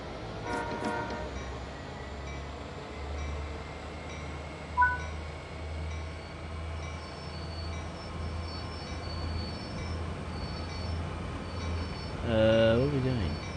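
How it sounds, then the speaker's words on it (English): Freight locomotives being uncoupled in Train Sim World 4 on a heavy freight run over Sherman Hill: a steady low diesel idle with clanks and rail noise, a short knock midway and a louder groaning swell near the end. "Let's uncouple the locomotives."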